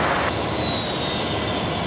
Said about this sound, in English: I can hear the OPN corporate jet just powering down there.